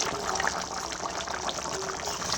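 Water is poured into a pot for cooking in a home kitchen, a steady close trickling splash running evenly for a couple of seconds without speech.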